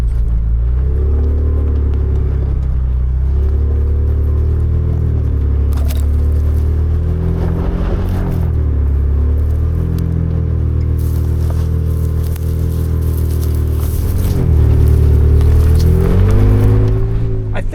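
A 2024 Ford Ranger Raptor drives an off-road mountain course, its engine a steady loud rumble with harmonics that rise and fall as the throttle shifts, along with occasional creaks and crunches from the terrain.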